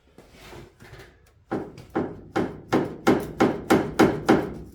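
Sharp metallic banging rings out as a rusty piece of metal is worked off the firewall of a 1977 Ford F150, about ten loud strikes that come faster and more regularly as they go, close and alone.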